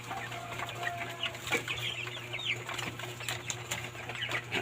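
Twenty-six-day-old broiler chickens in a cage chirp and cluck softly, with scattered calls and a little wing rustling over a steady low hum of background noise.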